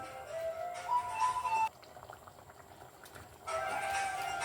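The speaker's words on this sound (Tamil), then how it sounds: "இது நல்லா கொதிச்சிடுது." A pot of kadappa sambar simmers on the stove with soft bubbling and liquid sounds, interrupted by a steady hum, then the bubbling continues at a low level.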